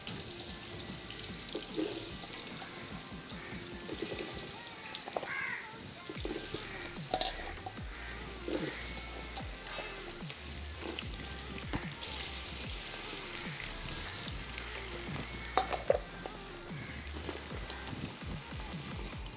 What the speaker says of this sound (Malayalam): ഓക്കെ, നമ്മുടെ ഈ പൊട്ടറ്റോ ബീട്രൂട്ടും നമുക്കൊന്ന് ഫ്രൈ ചെയ്തെടുക്കാം.